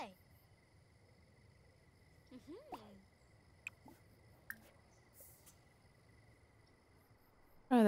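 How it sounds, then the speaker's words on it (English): Frogs and crickets chirp and croak faintly in a quiet outdoor scene in the video game The Sims 4, with scattered brief calls over a soft steady insect hum. "Frogs."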